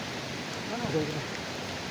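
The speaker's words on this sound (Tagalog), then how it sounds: "So, malakas talaga ng ulan." Heavy rain pouring outdoors, a dense steady hiss of falling water with no break, loud and close, with a faint murmur in the middle.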